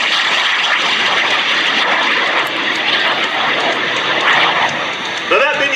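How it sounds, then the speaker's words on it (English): A SubSonex mini jet, a tiny 16-foot kit-built single-seat jet, roars steadily as it streaks past at the Great Texas Airshow, a loud sustained whoosh throughout with a rising tonal shift near the end. "Now that mini jet that just streaked by is only 16 feet long"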